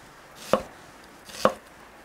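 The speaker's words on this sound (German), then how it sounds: "Aus den Zwiebeln hier machen wir uns etwas dickere Halbringe." Knife slicing onions into thick half rings on a cutting board: two distinct, close chopping thuds about a second apart over a quiet kitchen background, with no talking.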